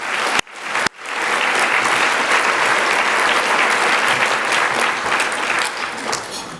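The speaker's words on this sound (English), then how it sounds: "Let's give Nicole one more round of applause." An audience at a sustainability summit lunch plenary breaks into loud, dense applause after a couple of sharp opening claps, sustaining steadily before tapering off toward the end.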